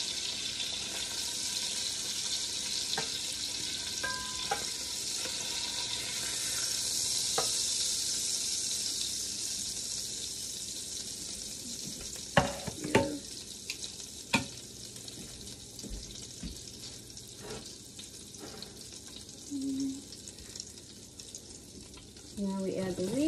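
Chicken sizzling in a blue enameled cast iron Dutch oven, a continuous bright hiss running throughout, with occasional clinks, stirring scrapes and a few knocks of utensils against the pot.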